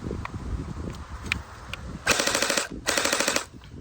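Two rapid bursts of full-auto fire from an Anstoy M4A1 airsoft rifle on a 2S battery, each about half a second of fast mechanical chattering, preceded by faint clicks and handling noise.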